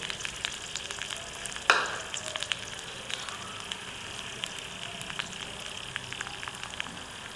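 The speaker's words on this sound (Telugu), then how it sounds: "చిన్నగా కట్ చేసుకున్న ఉల్లిగడ్డలు చిన్నగా కట్ చేసుకుంటేనే తొందరగా నూనెలో ఫ్రై అవుతాయి." Finely chopped onions fry in hot oil with a steady, hissing sizzle like light rain. A louder stirring clatter comes early on, and after it the frying hiss carries on evenly.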